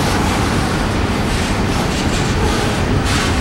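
A southbound Norfolk Southern freight led by two locomotives passes close at Corning, New York, on the old New York Central railroad, a loud, unbroken roar and rumble of wheels on rails with no voices.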